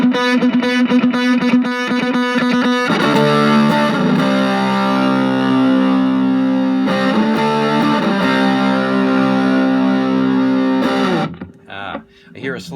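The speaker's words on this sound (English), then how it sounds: "now we move on to the mysterious KAPUTT control" Electric guitar through an Okko Black Beast fuzz pedal with its KAPUTT control engaged, loud sustained distorted chords and notes with rich harmonics, a brief stop and restart near the end.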